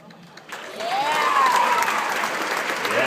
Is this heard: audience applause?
yes